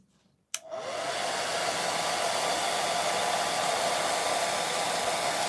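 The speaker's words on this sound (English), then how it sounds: "I'm going to try and dry it with a hairdryer" After a short click, a hair dryer switches on and blows with a loud, steady whooshing roar that continues unchanged without any speech.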